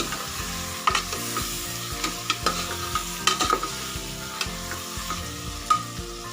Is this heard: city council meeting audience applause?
no